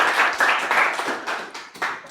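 Applause at a university library international short course: a small group clapping close by in uneven bursts, fading and picking up again over two seconds, without talk.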